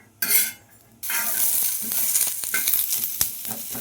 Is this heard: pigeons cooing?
no